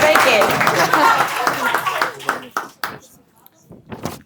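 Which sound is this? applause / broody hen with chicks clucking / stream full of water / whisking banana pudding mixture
applause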